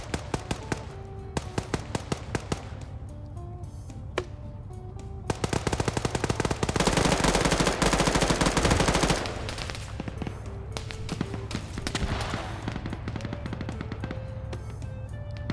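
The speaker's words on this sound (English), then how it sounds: "you got a machine gunner immediately firing down on Scandi Recon members here" Machine-gun fire rattles in a video game battle, with bursts of rapid rhythmic shots, a long loud sustained stretch in the middle, then more scattered bursts with ringing tones.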